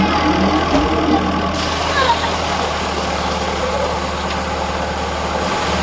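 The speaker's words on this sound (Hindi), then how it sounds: "ये फिएट ट्रैक्टर लगा हुआ है।" A Fiat tractor's engine idles with a steady, low, even rumble at close range on a Pakistani village farm, while people talk over it.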